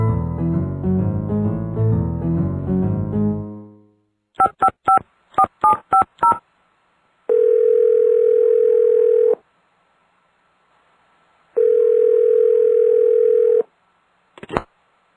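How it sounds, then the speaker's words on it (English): Telephone keypad dialing tones in a cartoon fox's call to a crane: a quick burst of about eight touch-tone beeps, followed by two long steady ringback tones separated by silence, loud and clear after a short musical passage. "Mr. Fox telephones Mrs. Crane."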